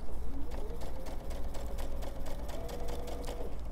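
A sewing machine runs steadily as it stitches pajama fabric, a continuous close mechanical whir with rapid needle ticking and small bursts where the pace shifts.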